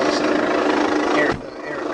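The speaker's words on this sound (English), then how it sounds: "the helicopter's coming in" A helicopter coming in overhead during a police roadside arrest, a loud steady rotor and engine drone that cuts down abruptly near the end, leaving a quieter hum.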